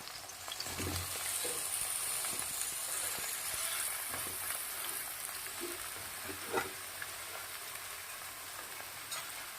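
Pieces of pointed gourd and pumpkin fry in hot oil with a steady, close sizzle, joined by occasional soft scrapes and knocks of stirring.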